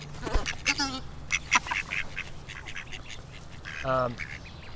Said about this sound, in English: Hey Ducky, come here.